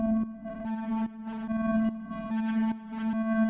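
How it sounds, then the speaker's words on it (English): A sustained synth oscillator tone with a steady low pitch and bright harmonics, pulsing in short bursts and washed with echoing delay and reverb. "I'm going to turn up the DPO, give it some reverb and delay"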